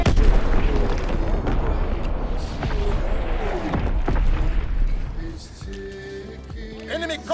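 An artillery battery fires in Call of Duty: WW2 during a hardcore Domination match on PS4 Pro. Heavy booms and a continuous rumbling barrage play loud and close, with in-game voices and player talk layered over the bombardment.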